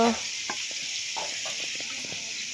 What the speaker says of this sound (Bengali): আলুগুলোকে লাল লাল করে ভেজে নেওয়া হবে মাছের জন্য